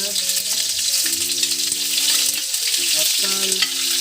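Garlic and onion sautéing in oil, a loud, dense, continuous sizzle up close, with a low steady hum running underneath.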